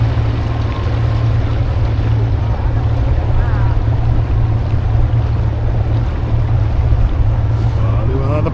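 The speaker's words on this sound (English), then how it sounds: "roaring round in your boat at about 26 knots, bouncing all over the place" A RIB speeding at about 26 knots and bouncing over the water on a rally near Loch Melford, with a loud, steady engine roar and rushing water and wind running throughout, and a voice speaking over it.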